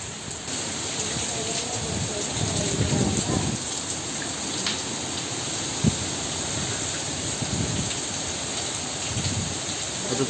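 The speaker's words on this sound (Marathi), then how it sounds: "खूप म्हणजे खूप जोरात पाऊस आणि वादळ आलं बघा." Heavy rain and wind during a cyclonic storm in the Konkan region, a steady rushing downpour with gusty swells and a few knocks, close by and without clear speech.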